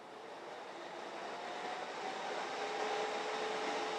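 A laptop cooling fan at maximum speed, 2800 RPM, roars with a steady whoosh, swelling slightly louder over a few seconds, with a faint high whine running through it.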